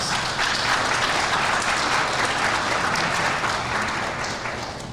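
An anniversary event audience gives Lynette a round of applause, dense sustained clapping that fills the room and tapers slightly at the end.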